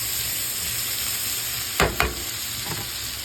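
Potatoes fry in a pan for a breakfast dish, a steady crackling sizzle with two sharp clatters of a utensil stirring them partway through.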